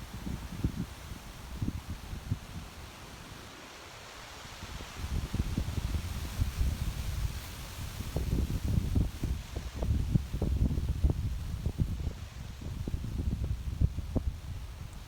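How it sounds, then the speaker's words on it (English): Wind gusts roar and rustle through dense brush on public hunting land, rising and falling in waves with buffeting on the microphone. "It's also really windy too today"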